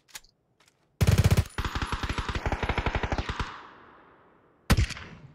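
MP9 submachine gun firing in PUBG: a loud, close, fast automatic burst of evenly spaced shots that tails off into echo, followed by another short loud burst after a brief pause.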